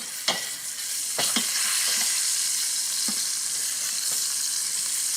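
Ragout browning in a pan for gnocchi, a steady bright sizzle with a few sharp scraping stir strokes from a utensil, close and continuous with no talk.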